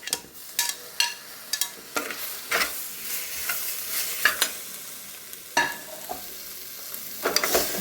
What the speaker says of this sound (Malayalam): മസാലയുടെ പച്ചമണം മാറുന്നത് വരെ നമുക്കിങ്ങനെ ഇളക്കി കൊടുക്കാം.